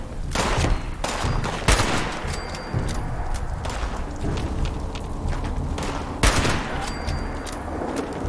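Rapid hunting rifle shots ring out in Fallout 76, sharp broadband cracks in bursts and repeated volleys against a busy background of combat noise, loud and close throughout.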